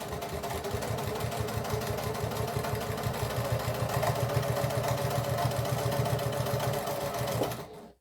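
Sewing machine joining fabric layers for a blooming rose craft, a steady rapid mechanical chatter running continuously at close range for about seven seconds before stopping abruptly.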